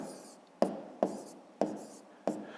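Someone writes numbers by hand on paper for a multiplication, making four short scratching pen strokes at an even pace, close and quiet.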